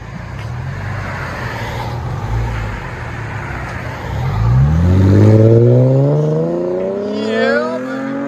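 Cadillac CTS with a 3.6-liter V6, muffler delete and 4-inch tips, idles with a deep rumble before revving up loudly, its exhaust note climbing and then easing back down, close by with traffic noise behind it.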